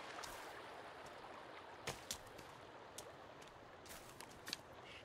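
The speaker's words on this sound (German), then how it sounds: "Einmal durch den nassen Fluss." Wading through a river in the survival game Sons of the Forest: steady, soft rushing water with a few sharp splashes and sloshes scattered through it, fairly quiet and with no talking.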